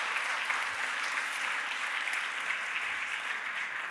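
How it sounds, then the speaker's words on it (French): Sustained audience applause at a peace conference speech, an even, continuous patter of many hands clapping at moderate distance with no voice over it. "Et on peut les applaudir."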